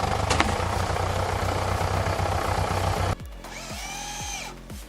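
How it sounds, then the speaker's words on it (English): Chainsaw cutting through huge rounds of wood, the engine roaring steadily at full throttle for about three seconds, then dropping off to a rough idle with a few low revving blips near the end. "He's wielding a chainsaw that probably weighs as much as a small child, cutting huge rounds of wood"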